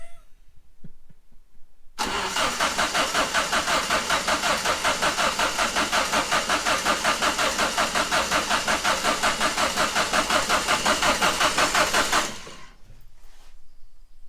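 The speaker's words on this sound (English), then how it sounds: "I don't need the key. I push the start." A turbocharged car engine cranks on a push-button start, a loud steady rhythmic whirring for about ten seconds at close range, then it cuts off.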